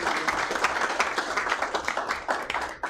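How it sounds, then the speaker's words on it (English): At a city council meeting, a room of people gives a round of applause for children and parents, steady overlapping claps at moderate volume that thin out near the end. "So let's give them a round of applause."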